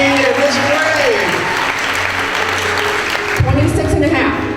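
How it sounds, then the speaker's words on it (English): Applause fills a school awards assembly, a dense, steady clatter of many hands clapping throughout. It stays loud and continuous, with a brief swell of crowd noise near the end. "Everybody, round of applause."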